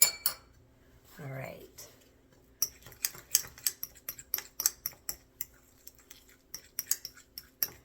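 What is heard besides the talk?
scraping the last of a mask mixture with a fork's back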